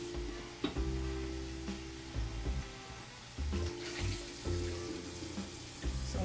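Water runs from a tap in short bursts over a sink for rinsing, with gurgling splashes starting and stopping, close and fairly quiet, with no talk.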